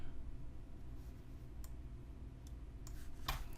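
Computer mouse clicks at a desk, a few scattered soft clicks followed by a quick cluster near the end, over a low steady hum.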